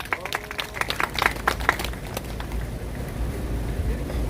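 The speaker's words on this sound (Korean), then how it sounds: "큰 박수 부탁드리겠습니다." A small gathering at a construction workers' union talk gives a short round of scattered hand claps, distinct individual claps in the first two seconds that thin out into quiet room noise.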